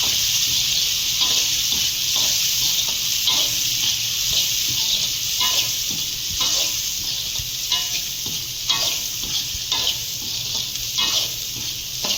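Small onions sizzle steadily as they fry in a pan, a continuous bright crackle with occasional stirring scrapes and clinks, close and fairly loud throughout with no talking.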